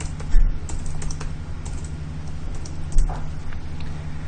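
Light typing on a computer keyboard while entering a command, a few soft scattered key clicks over a steady low hum, fairly faint and close.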